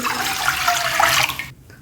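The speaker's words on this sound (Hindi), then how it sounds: "उसमें मैं 2 लीटर पानी डाल दूँगी" Two litres of water pour into a cooking pan for chicken corn soup, a steady close rushing splash that runs for about a second and a half, then stops abruptly into near silence.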